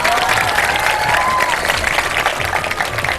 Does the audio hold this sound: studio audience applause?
yes